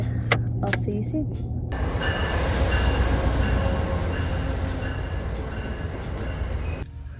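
Steady rumble and rattle of a moving passenger train heard from inside the car, loud and continuous, with a few sharp clacks near the start.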